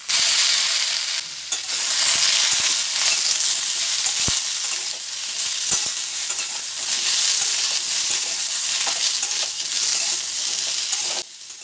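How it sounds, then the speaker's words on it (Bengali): Cut brinjal frying in hot oil with browned potato and pumpkin makes a loud, continuous sizzle, with a few faint clinks and scrapes of stirring scattered throughout. "আলু আর কুমড়োটা একটু লাল লাল করে ভেজে নেওয়ার পরে এতে দিয়ে দেবো কেটে রাখা বেগুনটা"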